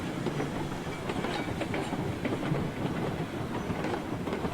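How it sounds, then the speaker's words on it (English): A loaded six-car coal train rolls downhill on rails in Railroads Online, a steady dense rumble of wheels with rhythmic clacking over the joints, close and continuous with no talking. "even more challenging to come down this hill with a loaded coal train of 6 cars"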